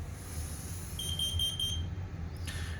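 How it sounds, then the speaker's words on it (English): Carbon monoxide alarm on a fire alarm demo board sounding a temporal 4 pattern: short, steady high electronic beeps in a repeating group, loud and near over a constant background hum, with no voices. "So here it's doing the temporal 4 coding, which automatically stops when the controller unit right there receives a clear message from the activating detector."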